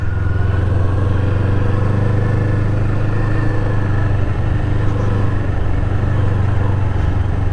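A 2025 Kawasaki Eliminator semi-cruiser motorcycle being ridden, its engine giving a steady low droning hum with a rough, even exhaust note at constant speed, close and loud throughout with no talk.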